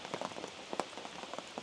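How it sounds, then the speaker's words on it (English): Heavy, steady rain falls during a day-long downpour in a foggy, damp spot on a solo traverse through stormy Georgia, with drops pattering distinctly on a nearby surface in irregular bursts. "It's been raining all day up here."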